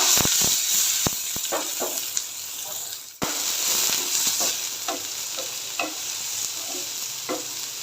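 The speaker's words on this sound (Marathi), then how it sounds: "कांद्याला ना छान असा गोल्डन ब्राऊन कलर येईपर्यंत परतून घ्यायचं आपल्याला" Chopped onions sauté in a pan for kurdai bhaji, a steady hiss of frying with repeated sharp clicks and scrapes as the spatula stirs them, close and fairly loud with no talking.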